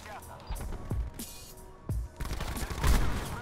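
Sharp gunshots in Call of Duty: Black Ops 4 go off a few times at irregular intervals, mixed with busy game sound effects and a voice talking underneath.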